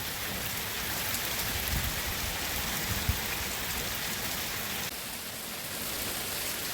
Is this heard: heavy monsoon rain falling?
yes